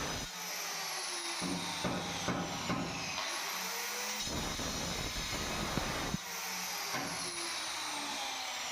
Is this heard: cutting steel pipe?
yes